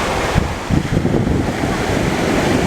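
Ocean surf breaking on the shore at Little Beach, a steady rushing roar with gusty wind buffeting the microphone and a few stronger wave surges.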